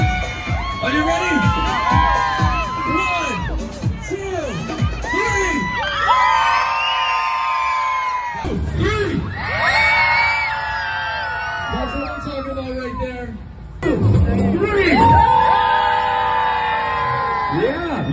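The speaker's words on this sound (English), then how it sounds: "On the count of three, I want to hear everybody scream." A large crowd at a Santa Claus parade screams and shouts loudly in long, sustained waves, with brief pauses between bursts of cheering.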